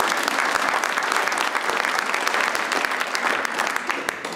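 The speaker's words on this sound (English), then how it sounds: "Okay, clap." A convention audience claps steadily for several seconds, a loud, dense and continuous wash of many hands with no speech on top.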